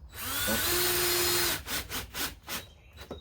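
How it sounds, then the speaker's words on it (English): A power drill whines steadily for over a second, then gives several short bursts as it drives screws into a wooden bench seat, loud and close with no voices. "I like to put a few screws in and then work my way around and then come back and finish them up"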